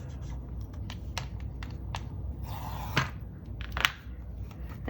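Washi tape being pulled, pressed and smoothed onto a Franklin Covey Teresa Collins planner page, close soft scratchy rubs and light taps, with a brief tearing rasp near the end, quiet and without talking.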